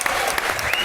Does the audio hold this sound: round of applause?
yes